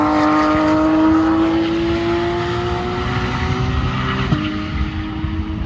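A Porsche GT3 race car passes on a track, its loud high-revving engine note sliding down in pitch as it moves away, with a brief shift near the end.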